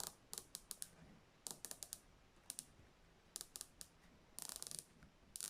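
Crisp ratcheting clicks from the rotating bezel of a Steeldive 1958 dive watch, sounding in short quick bursts and separate runs of clicks, close up and quiet with no talking.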